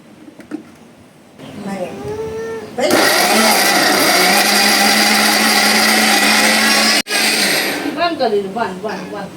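Kitchen mixer grinder switching on and running at a loud, steady high-pitched whine for several seconds, cutting off abruptly, with someone talking before and after.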